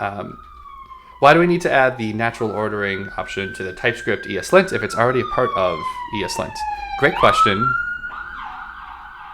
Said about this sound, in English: I don't know if you can hear the siren outside.